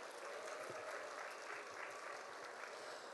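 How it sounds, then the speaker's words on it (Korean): Faint, steady applause from an audience at a vocational education fair in Gyeongnam as a graduate speaker is welcomed to the stage; dense, even clapping from a distance without talk. "박수 한번 주셔야죠"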